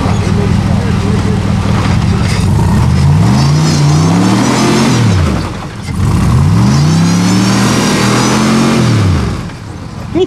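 An off-road vehicle's engine revs hard and steadily on a dirt trail as its wheels spin for traction, the pitch rising and falling in two long surges, loud and close.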